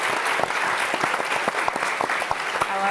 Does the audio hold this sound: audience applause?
yes